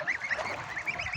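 Young geese honk and call repeatedly while being bathed in water, with quick nasal honks in an uneven rhythm, close and fairly soft.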